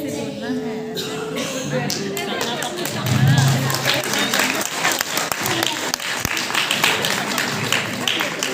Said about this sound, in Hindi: हन्ना के लिए जोरदार ताली